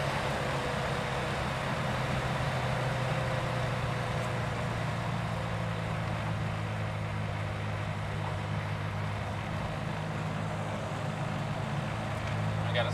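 Porsche 356 B with a 60 horsepower engine being driven on the road, a steady low engine drone with a faint hum running underneath, continuous and even, heard from inside the car.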